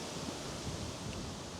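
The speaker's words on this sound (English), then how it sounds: "It's very windy today." Strong wind gusting outdoors on a stormy day beside a motorcycle, a steady broadband roar with no talking.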